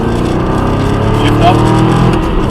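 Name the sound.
sports car accelerating on a track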